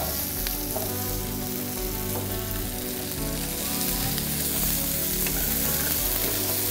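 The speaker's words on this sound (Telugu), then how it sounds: "తరిగిన ఉల్లిపాయ ఇందులో వేసుకొని ఇది కూడా మనం కొంచెం వేగేంత వరకు" Chopped onion and vaakkaaya (a small sour green fruit) fry in hot oil for Telugu dal, giving a steady, close, continuous sizzle with soft stirring scrapes throughout and no talk.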